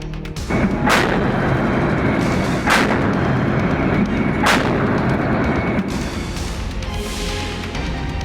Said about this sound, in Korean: 함포 사격을 실시하였습니다